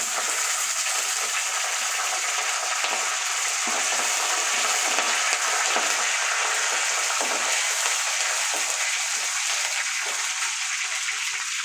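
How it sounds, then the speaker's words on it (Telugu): Onion pieces frying in a pan for a goru chikkudu (cluster bean) fry, a loud, continuous close sizzle that holds steady throughout, with faint stirring underneath. "ఈ ఉల్లిపాయ ముక్కలు కొంచెం ఫ్రై అయిన తర్వాత తర్వాత ఇందులో కరివేపాకు యాడ్ చేసుకోవాలి"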